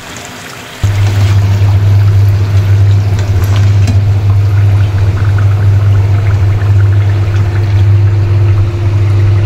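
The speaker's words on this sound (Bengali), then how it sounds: "এইভাবে হালকা আঁচে পিঠাটা ভাজতে হবে" Pakan pitha dropped into oil and fried on low heat, starting with a sudden onset and then a loud, steady, close sizzle that continues unbroken, with no voices.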